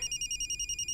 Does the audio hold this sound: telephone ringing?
yes